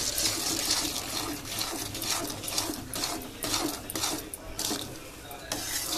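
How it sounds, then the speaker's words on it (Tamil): Grated coconut stirred into a sweet coconut mixture in a pan, heard as a series of close, rhythmic scraping and sloshing strokes over a soft background, with no voices. "இப்போ இந்த தேங்காவையும் போட்டு கிண்டணும்"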